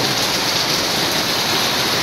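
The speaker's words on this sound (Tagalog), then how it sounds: "Uy, grabe lakas ng ulan oh" Heavy rain pouring down steadily in Daet, a dense continuous roar of water on surfaces with no gaps, loud and close throughout.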